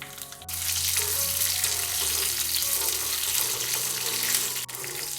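Steady, loud frying of curry leaves and dried red chillies in hot oil, a broad hiss that swells in right after a brief quieter start and continues without pause.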